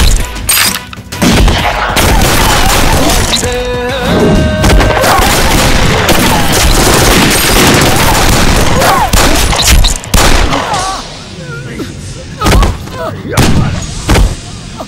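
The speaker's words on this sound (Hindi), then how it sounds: "तुम लोग मुझे कवर फायरिंग दो" Cover gunfire in a Bhojpuri action film shootout: dense, loud bursts of rapid shots and booms crash almost continuously, with short gaps near the end where single heavy blasts ring out, mixed with shouting voices.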